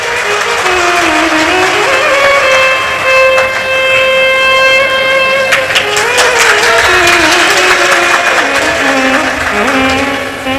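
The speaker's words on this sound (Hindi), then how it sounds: "एक बार जोरदार ताली बजाओ इस बालक के लिए" A crowd at a Hindu Shiva Purana katha gathering claps for a boy. Dense applause swells partway through under loud, sustained devotional music with melodic tones.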